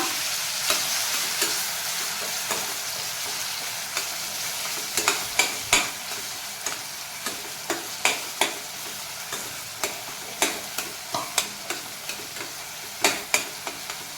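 Onion and capsicum frying in a pan for paneer chilli, a steady close sizzle with scattered sharp clicks and scrapes of a spatula stirring throughout, no voices.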